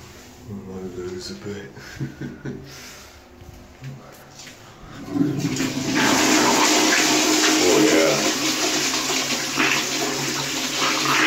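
A Twyfords Delphic toilet in a public cubicle in Harrogate flushes, a loud rushing gush of water that surges in midway and roars steadily for several seconds, close and reverberant, after quieter handling noises.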